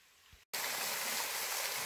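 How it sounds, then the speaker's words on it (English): Steady, loud broadband roar of Squatta Waterfall, continuous and close, following a brief quiet gap at the start. "This is Squatta Waterfall."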